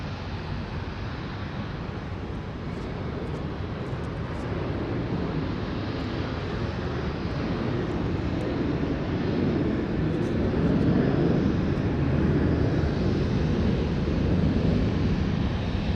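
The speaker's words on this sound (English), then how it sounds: "Singapore 242 cleared for takeoff there on the ATC" A Singapore Airlines jet takes off from a runway at Sydney Airport at night, heard as a steady, broad, distant roar that swells gradually over the whole stretch, with wind noise and no talking.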